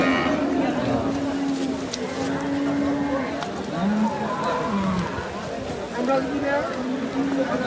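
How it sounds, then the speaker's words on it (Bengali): Cows at a muddy cattle market low repeatedly, in several drawn-out moos at close range over a busy crowd murmur, while a person talks throughout. "এই পাশেও অনেক গরু আছে"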